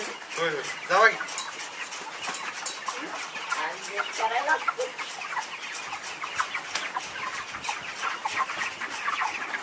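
Several chickens cluck and chatter near at hand, a busy overlapping flock, with people talking in the background.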